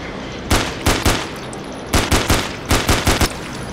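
Bursts of gunfire at zombies in the zombie shooter No More Room in Hell, several short sharp volleys of rapid shots, loud and close, separated by brief pauses.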